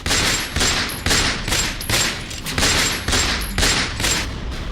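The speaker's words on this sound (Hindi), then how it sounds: "बदमाशों ने ताबड़तोड़ गोलियां बरसाई, जिससे मौके पर ही 2 युवकों की मौत हो गई।" CCTV captures attackers' rapid gunfire as a string of sharp, loud shots firing in quick, fairly regular bursts, about two per second, with no talking over them.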